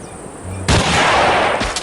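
A single loud sniper rifle shot in the mobile shooting game Hunting Sniper cracks suddenly after a quiet lead-in, followed by a sustained echoing roar and a second faint impact.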